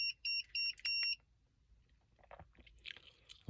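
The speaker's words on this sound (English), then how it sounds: "it beeps to kind of let you know what's going on there." Stealth license plate cover device on a car giving four short, bright electronic beeps in quick succession, followed by quieter scattered clicks and rustles.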